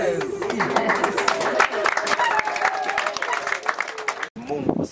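Audience applause at a memorial service, many hands clapping in a steady dense patter for most of the span, with talk and voices mixed in and a brief break near the end.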